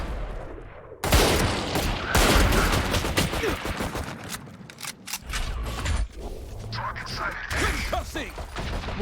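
Rapid bursts of video-game gunfire in a shooter, loud and dense, crackling in volleys for several seconds with short gaps, while a voice talks faintly underneath.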